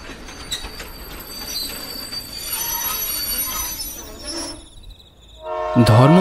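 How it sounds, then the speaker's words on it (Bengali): A train pulling into a station as a story sound effect: rumbling wagons and squealing wheels, a short drop near the end, then a loud horn blast close by, with no speech. "ধর্মপুর স্টেশনে ট্রেনটা যখন পৌঁছালো তখন রাত 1টা বেজে গিয়েছে।"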